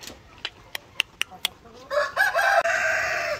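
Egg-laying hens feeding on a small farm, with a series of sharp, close clucks and pecks followed by a longer, louder crowing-like call, heard alone without talk.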